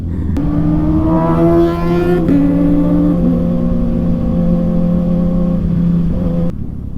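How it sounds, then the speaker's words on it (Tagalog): Sport motorcycle engines, including a Kawasaki Ninja ZX-4RR, rev steadily and loudly up close, a sustained high droning whine that rises and shifts pitch before cutting off near the end. "Ingay ng mga motor namin ni JJ."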